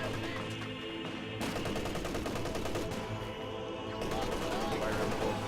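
Gunfire from Company of Heroes 2 crackles in a dense, continuous battle mix, with machine-gun bursts and shots layered over a steady background of combat noise.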